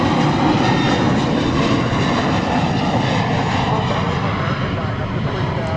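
Jet engines of an American Airlines Boeing 737-800 from Albuquerque going around at DFW Airport at night, a loud, steady broadband roar that fills the whole stretch without fading, with faint speech underneath.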